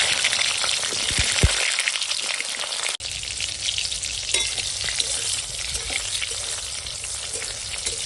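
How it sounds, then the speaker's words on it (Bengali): Pieces of pointed gourd (potol) fry in hot oil, a loud, close, crackling sizzle that holds steady throughout, with light stirring scrapes and a brief clatter partway through. "আর তেল হয়ে গেছে গরম তো এখন ভেজে নেব পটল"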